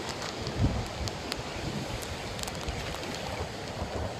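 Strong wind roars across a hurricane-battered coastline with choppy surf, a steady broadband rush with a brief gust swelling near the start, no voices.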